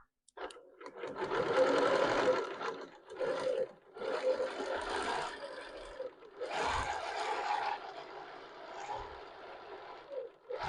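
A BERNINA sewing machine runs with a precision ruler guide, stitching quilting thread in a series of rapid mechanical bursts with short pauses between them, close and clear with no talk over it.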